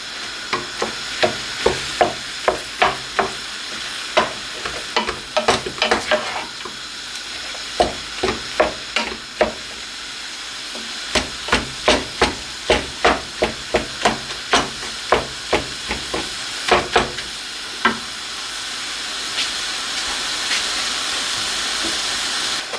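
Steady loud sizzling of mince frying in a pan, with repeated sharp scraping taps of a utensil stirring throughout.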